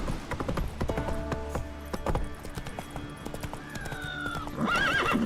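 Hooves clip-clop steadily as a horse gallops in The Witcher 3, with a loud whinny near the end, all close and in the clear with no talk over it.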